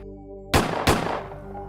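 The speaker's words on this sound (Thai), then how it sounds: "ออกไปยิงปืนขึ้นฟ้าสองนัด" Two sharp gunshots fired into the air at a campsite ring out in quick succession, loud and close, each trailing off with a short echo over a low hum.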